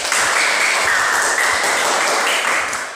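Applause in a school classroom for a student, a steady spread of clapping from the class lasting about three seconds, over a faint steady hum in the room.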